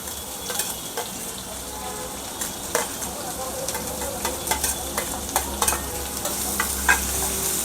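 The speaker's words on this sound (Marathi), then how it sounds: "आता एकसारखं आपल्याला मोठ्या गॅसवरती कांद्याला चांगलं हलवून घ्यायचं।" Sliced onions frying over high heat in a pan with curry leaves and chilies for poha, a continuous sizzle with repeated scraping stirs of a spoon, close and steady.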